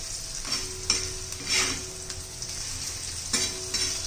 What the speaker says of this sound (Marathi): आता ह्या मिरच्या आपण खरडून घेणार आहोत तांब्याने